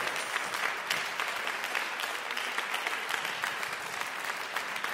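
Audience applause for a band at the Nowa Tradycja 2014 folk music event, a dense, steady crowd clapping at moderate volume throughout.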